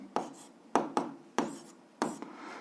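Pen or chalk writing out solutions to a seventh-grade algebra exercise, heard as five distinct scratchy strokes in quick, uneven succession, close and moderately loud with no talking.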